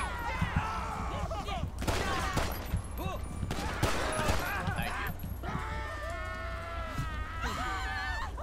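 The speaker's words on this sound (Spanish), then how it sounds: "Robert, tú, por Dios, dispara." Gunfire in GTA V with the LSPDFR police mod during a traffic pursuit, scattered shots and volleys under continuous shouting, sirens and game noise, with people talking throughout.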